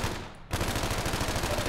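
Automatic gunfire in Half-Life 2 Raising The Bar Redux, a quiet moment broken by a sudden fast burst of loud, evenly spaced shots that continues to the end, with no talking.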